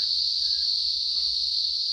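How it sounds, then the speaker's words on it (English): Cicadas chirp in the evening in one steady, loud, continuous drone that holds without a break, with no voices over it. "you hear the cicadas? It's 7:30 now. They started just before 7. The first one started to chirp, and then it turned into this"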